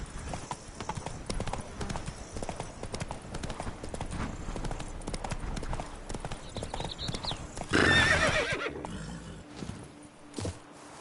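Geralt's horse Roach in The Witcher 3 clip-clops at a steady pace throughout, with a whinny partway through and a burst of louder sound near the end.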